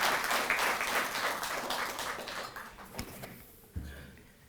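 Audience applause at a government ceremony honoring Tokyo Olympics athletes, a dense burst of clapping that gradually thins and fades out, ending with a few scattered claps and a bump.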